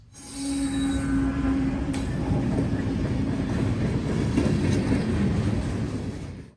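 Westbound freight train led by two Union Pacific GE locomotives rolls past close by, a steady loud rumble of wheels on rail with clicking joints and occasional squeal, no voices.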